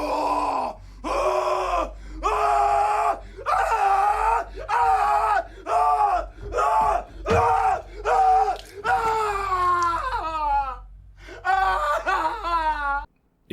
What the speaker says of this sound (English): and screaming in anguish